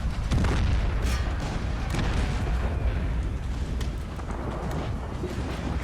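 Deep booming blasts of cannon fire in the video game Empire: Total War, several heavy thuds over a dense rumbling battle din, loud and continuous.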